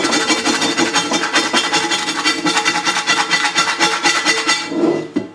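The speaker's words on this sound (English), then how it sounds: "These little scrapers from Lodge, right? You literally just scrape it." A Lodge plastic scraper scrapes baked-on chicken off a cast iron pan in steady, rapid rasping strokes, loud and close, continuing for about five seconds before stopping.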